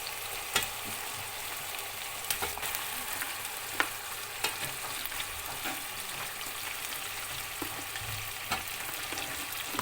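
Mutton sizzles steadily in browned onion masala with ginger and garlic paste, a constant frying hiss broken by occasional sharp spoon clicks against the pot, close and alone.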